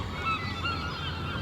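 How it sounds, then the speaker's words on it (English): Seagulls call in the distance, a faint scatter of honking cries over a steady outdoor background hiss. "They're not ducks. Those are the seagulls."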